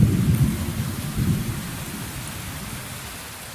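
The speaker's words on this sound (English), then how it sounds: "Just describe your sound. A rainy day with thunder." AI-generated rainy-day soundscape: steady rain hiss with deep rolling thunder that swells twice in the first second and a half, then settles into a lighter continuous downpour.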